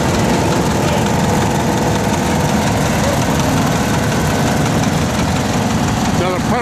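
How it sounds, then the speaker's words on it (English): A John Deere 240 tractor engine runs with a constant, close, heavy idling drone that holds at an even loudness throughout. "John Deere 240."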